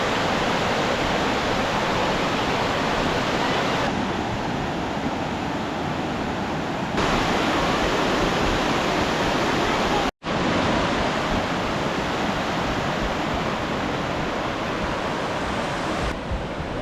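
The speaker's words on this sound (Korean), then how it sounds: "드디어 자가폭포가 모습을 드러냈습니다." Zhaga Waterfall on the high Tibetan plateau near Songpan roars with a loud, unbroken rush of falling water, steady broadband wash filling the scene.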